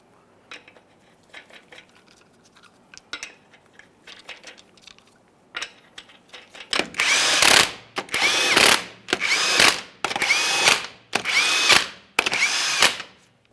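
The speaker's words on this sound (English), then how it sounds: "install all 6 of your lug nuts. We'll bottom them out." A power tool runs down the lug nuts on a 2015-2020 Ford F-150 front wheel in six loud, close whirring bursts of about a second each, following quieter scattered clinks and handling noises.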